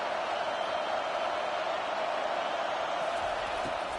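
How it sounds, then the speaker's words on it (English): Steady, dense roar of a college football stadium crowd at the Texas versus Texas A&M rivalry game, a continuous wash of voices and noise holding level throughout with no single standout cheer. "This crowd bringing the energy and noise early"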